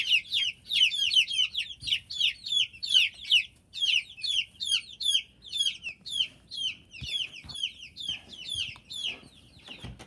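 Hens cluck and chatter continuously in a new coop, a busy, close chorus of overlapping bright calls with occasional thumps of movement and no talking.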